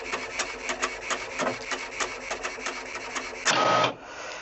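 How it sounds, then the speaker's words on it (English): An HP Envy 6120e printer printing a page, with a rapid series of mechanical ticks and whirs from the paper feed, ending in a short, louder burst of motor noise as the sheet is pushed out. "tap on print details and wait for the page from the printer"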